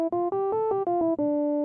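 A synthesizer patch with high filter resonance and full key follow plays a quick run of about eight short, pure, sine-like notes that shift in pitch before a final held tone, clean and close with no talking.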